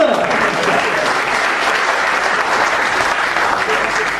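Applause from an audience at a Hindi comedy poetry recital, a dense steady clapping crowd sustained throughout.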